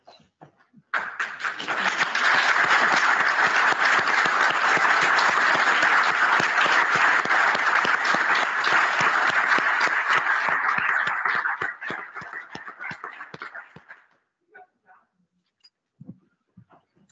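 Sustained applause after a PhD defence ceremony: a burst of group clapping holds steady for about ten seconds, then thins and fades into a few scattered claps.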